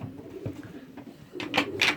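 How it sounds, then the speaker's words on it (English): Pigeons in a loft give soft, low cooing calls close by, with the cock birds stirred up by new arrivals, followed by a couple of brighter rustling or wing-shuffling sounds near the end. "all the cocks are going mad now because they see new birds"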